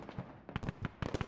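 Rapid bursts of IFV cannon fire in a military video game, several sharp reports in quick uneven clusters, fairly distant and faint.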